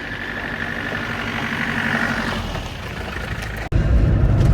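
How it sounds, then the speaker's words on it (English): A 1992 Land Rover Defender 90 hardtop with a 200TDi diesel engine drives along. Its low, steady engine drone is heard from inside the cab, with a sudden knock and louder rumble near the end. "here we are out in this Defender 90 200 TDI hardtop with windows on a galvanised chassis"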